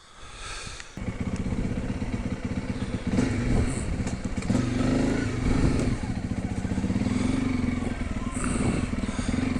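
A Honda CRF300L motorcycle ridden around a track, the engine starting up close and holding a loud, steady throbbing drone that rises and falls slightly with throttle, with some wind rumble.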